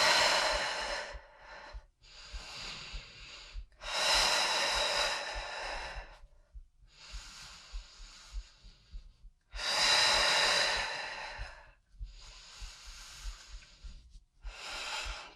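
Forceful breathing during a fast twisting core exercise, with loud, sharp exhales recurring in bursts about every few seconds, near and alone, separated by softer breaths and quiet gaps.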